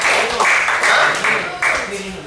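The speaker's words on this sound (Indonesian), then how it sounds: "Tepuk tangan." A classroom of students claps together in short rhythmic bursts during a lesson, a few loud patterned rounds of hand claps with voices mixed in.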